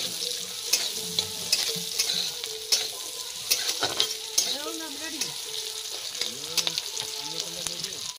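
Chili and onion fry in a pan with a continuous sizzle and stirring scrapes, while voices chatter and call out in the background through much of it.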